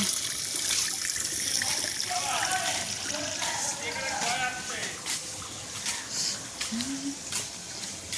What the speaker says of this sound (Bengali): চলো দেখি গামলাটা কত দূর ভরলো। এখনো ভরেনি